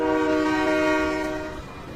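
A loud, sustained train horn blares from a video game train, layered over the steady rumble of the rolling cars, then eases slightly toward the end.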